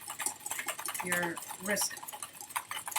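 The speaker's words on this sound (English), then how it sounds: "Just remember to whisk" Egg yolk and lemon being whisked for aioli, a quick steady clatter of the whisk against the bowl, close and continuous, with brief tonal voice-like sounds partway through.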